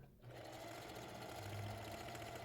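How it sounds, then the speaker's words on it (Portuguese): A domestic sewing machine stitches the side seam of a patchwork fabric crossbody bag, running in a fast, continuous, even whir at close range. "Costura aqui a outra lateral, ó."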